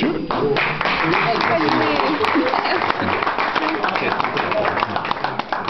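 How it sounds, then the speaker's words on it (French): Steady applause from a crowd, dense and continuous clapping throughout, with voices faintly mixed in. "Je voudrais que vous applaudissiez chaleureusement Rodolphe Chevalier."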